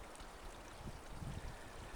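A small drainage creek in Sequoia National Forest trickles and gurgles softly, a faint continuous water flow heard from nearby with no talking.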